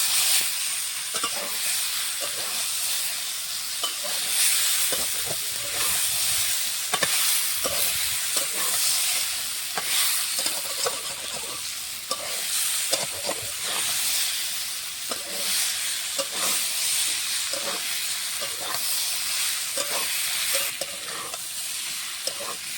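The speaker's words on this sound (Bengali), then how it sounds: "আলু ডাঁটার সঙ্গে মশলাটা কষিয়ে নিয়েছি" Spices sauté with potatoes and drumstick stems in a pan for a fish curry. A loud, continuous sizzle and hiss runs throughout, with frequent close scrapes and stirring strokes at an irregular pace and no talking.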